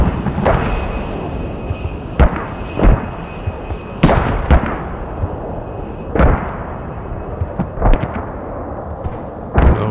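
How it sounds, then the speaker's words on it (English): Airstrike in the game Squad: a string of sharp, heavy blasts and booming impacts, about a dozen irregular hits with rumbling decays over ten seconds, loud and close, with no voices. "Seems like that was an airstrike."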